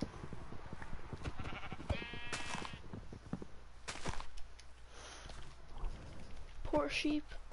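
Sheep in the Minecraft video game give a couple of short, faint bleats amid soft in-game footsteps and chopping sounds, with a player's voice talking quietly over them.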